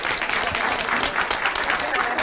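Steady audience applause at a medical masterclass, dense and continuous clapping close to the microphone for the whole stretch.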